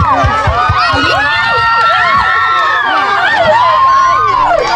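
Spectators at a village palo sebo greasy pole climbing contest with a 5,000-peso prize shout and cheer in a loud, dense crowd roar that stays steady throughout, with excited high voices cutting through.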